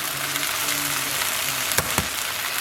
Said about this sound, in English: Now we're going to crack in 6 eggs, kind of start to scramble those, and then we'll mix them in with the potatoes,